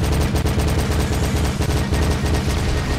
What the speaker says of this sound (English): so I'm using the machine gun instead of my super weapon